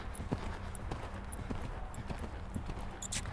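Steady clip-clop of horse hooves during a riding lesson, a continuous rhythmic patter of hoofbeats at moderate distance, with faint sounds in the background.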